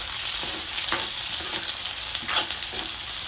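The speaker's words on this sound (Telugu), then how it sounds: "ఈ విధంగా బాగా గోల్డెన్ బ్రౌన్ వచ్చేంత వరకు మనము ఆనియన్, పచ్చిమిర్చి, కరివేపాకు ఫ్రై చేసుకోవాలి" Onions, green chillies and curry leaves fry in oil for a fish curry, giving a loud, steady sizzle with a few soft stirring scrapes through it.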